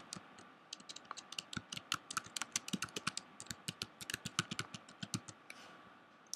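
Rapid typing on a computer keyboard, a steady run of crisp, close key clicks in quick irregular rhythm with no talk.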